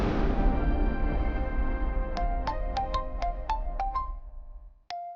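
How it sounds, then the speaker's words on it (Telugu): A phone ringtone for an incoming call plays as a rapid series of bright repeated tones, about eight quick beeps, starting after a stretch of loud low noise and returning once more near the end. "వాడే ఫోన్ చేస్తున్నాడు."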